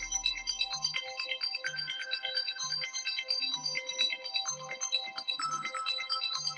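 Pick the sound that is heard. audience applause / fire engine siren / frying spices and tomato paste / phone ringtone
phone ringtone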